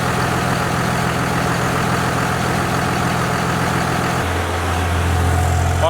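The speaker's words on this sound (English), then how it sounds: "Turbo sounds good, injectors look good." A Cummins diesel truck engine fitted with a new big turbo idles steadily, a loud close rumble with a constant whine on top; the idle pitch drops slightly near the end.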